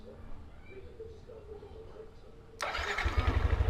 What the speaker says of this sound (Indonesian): Nah, nyala ya. Oke, motornya udah nyala.